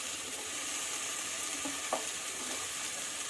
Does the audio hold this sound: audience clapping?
no